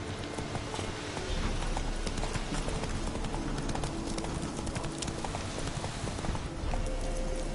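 Horse hooves clip-clop in a steady trotting rhythm as a horse is ridden in The Witcher 3, close and continuous over a low ambient game background.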